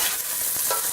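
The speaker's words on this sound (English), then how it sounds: "Now it is sizzling. Okay, I am adding the chopped onions." Chopped onions sautéing in a hot pan for a mung bean bhaji, giving a steady, close, continuous sizzle for a brief moment with no talking.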